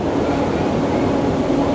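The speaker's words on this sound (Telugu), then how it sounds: "ఇప్పుడు మన ట్రైను ఒక కేవ్స్లోకి ఎంటర్ అవుతూ ఉంది." A train runs through a tunnel in the Alps near Chamonix, France, making a steady, loud, enclosed rumble with constant rolling roar throughout.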